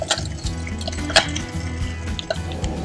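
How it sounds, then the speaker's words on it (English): A pot of simmering water under a bowl of melting white chocolate gives off soft, close bubbling and dripping pops in an irregular patter, steady and without any talking. "Melt the chocolate over a pot of simmering water, making sure that the water is not touching the bottom of the bowl."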